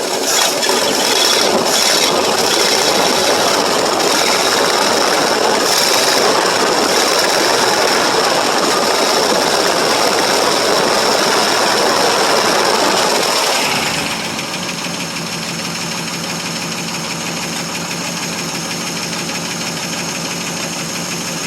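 A 1947 Ford Super Deluxe flathead V8 runs steadily after a cold start following two years of sitting, a loud, close, continuous engine note that drops to a quieter, smoother idle partway through.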